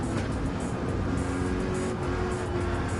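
Race car engine from a NASCAR GT video game, holding a steady loud drone with shifting pitch through the whole stretch as the car upshifts into fourth gear and brakes into a corner, no talking.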